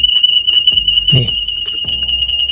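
A Realme 3 phone rings with an incoming call: a steady, piercing electronic tone holds unbroken throughout, with a brief burst of voice and handling noise in the middle.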